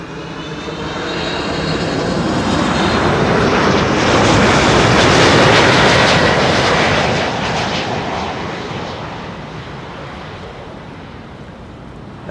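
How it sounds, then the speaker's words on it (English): A 21-year-old Delta Air Lines Airbus A330-300 landing at Schiphol, its engine roar swelling to a loud peak as it passes close, then slowly fading away. "Delta Airlines flight 164 arriving from Minneapolis, Minnesota"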